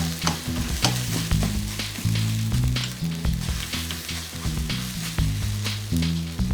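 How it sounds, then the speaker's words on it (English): VeganEgg scrambles in a frying pan, giving a steady close sizzle with scraping stirring strokes throughout, loud and continuous without any voices. "let me just scramble this up"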